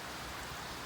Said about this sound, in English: It was insanely raining.